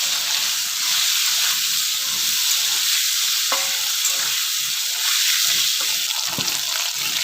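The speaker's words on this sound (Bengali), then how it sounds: "সজনাটা ভেজে নেব।" Drumstick (sajna) pieces fry with salt and turmeric in a pan, giving a steady, close sizzle with a hiss of steam and occasional stirring clicks throughout. No one speaks.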